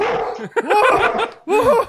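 A dog barks in a short, loud, close burst of several sharp yaps, with laughter and talk mixed in around it.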